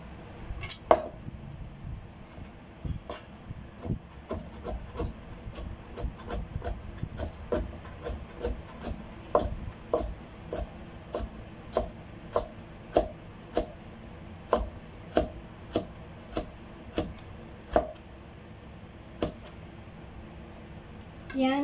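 Stem lettuce being chopped with a knife on a cutting board, a steady series of crisp knocks at an even pace, close by, with occasional quiet talk.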